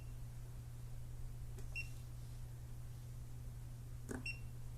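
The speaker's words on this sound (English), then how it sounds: "you do get a nice beep when it detects the voltage like that" A Hioki DT4252 True RMS multimeter gives two short, faint electronic beeps, a couple of seconds apart, over a steady low electrical hum.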